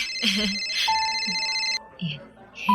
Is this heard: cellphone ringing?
yes